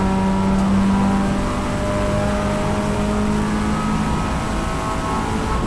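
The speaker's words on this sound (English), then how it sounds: "Listen to the throttle." Race car engine under sustained throttle on the Road America circuit, a loud, steady onboard drone with a constant tone and no breaks.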